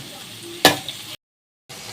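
Onions frying in a pan and being stirred: a soft sizzle under one sharp scrape of the stirring utensil, then a brief gap of silence before the sizzle returns.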